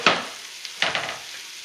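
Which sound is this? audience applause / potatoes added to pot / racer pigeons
potatoes added to pot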